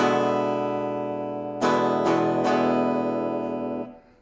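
A guitar E seventh chord rings out, is strummed again twice, and sustains before fading quickly at the end.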